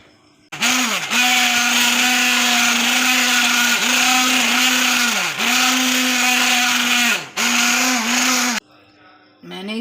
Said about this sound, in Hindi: अब मैंने इसे ब्लेंड कर देना है मिक्सी से।